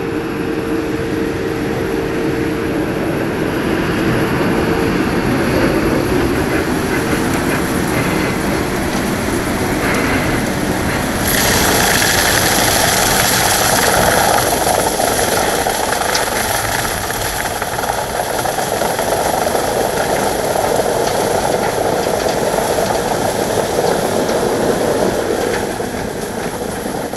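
A Tigercat 234B loader and a Chambers delimber run together at a logging site, their engines making a loud, steady, continuous roar with a brighter high-pitched whine partway through.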